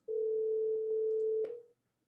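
Call tone on a Cisco conference phone, a single steady electronic tone held for about a second and a half before cutting off, clear and alone.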